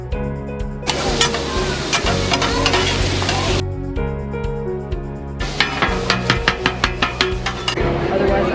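Cheesesteak meat sizzles loudly on a 36-inch Blackstone griddle at a snack shack, a dense frying hiss broken by rhythmic metal spatula scrapes and clacks that get faster toward the end.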